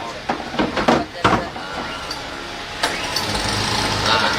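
A car engine, part of a governor's vehicle being converted into an ambulance, cranks and starts amid a few clicks and thumps, then settles into a steady idle hum; a voice briefly speaks at the start.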